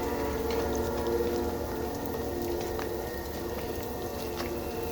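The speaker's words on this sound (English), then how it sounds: "Now it's raining." Steady rain falls on slushy snow outdoors during a South Carolina winter storm, a dense even hiss of drops pattering on wet surfaces, close and constant without pause.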